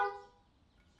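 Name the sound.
car horn honking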